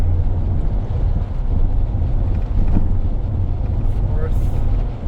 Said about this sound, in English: Some wind from the light bar.